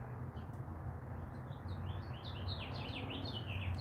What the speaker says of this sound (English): I love the sounds of birds in the background at your house